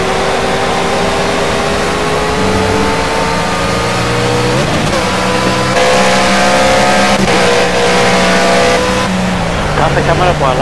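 A race car engine from the racing video game Project Cars runs loudly throughout, rising and falling in pitch with revving and gear changes, with a voice talking over it.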